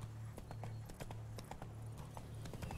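Roach, Geralt's horse in The Witcher 3, gallops in a steady, rhythmic clip-clop of hooves over a continuous low hum, with no voices.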